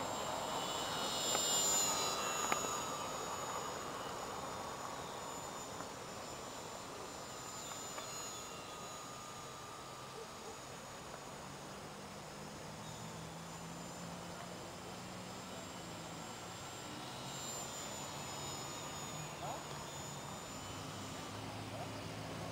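A radio-controlled Ugly Stick model airplane's engine drones steadily at a distance as it comes in to land outdoors, a thin continuous whine with someone speaking now and then over it.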